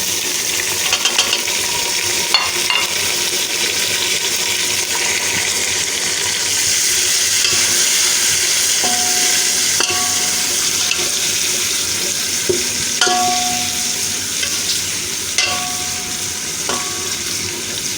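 Tomatoes with chopped vegetables and chillies frying in ghee, giving a continuous loud sizzle with clinks of a spoon against the pan and no talk.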